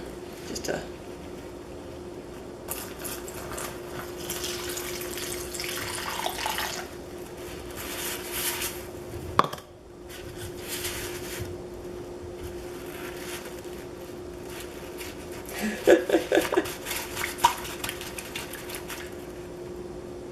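Water splashes and sloshes around inside a shoulder bag in a quiet room, with a soft steady hum underneath and a brief louder rustle near the end.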